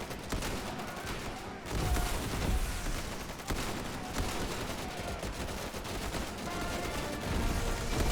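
M1 Garand rifle fire in a Pacific-theater shooter game, dense overlapping gunfire and battle noise that runs continuously, loud and close.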